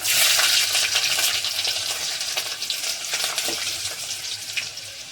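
Cumin and garlic fry in hot oil in a pan with mustard seeds and urad dal, making a loud, close, steady crackling sizzle that eases slightly over a few seconds.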